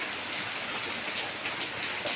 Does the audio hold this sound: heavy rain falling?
yes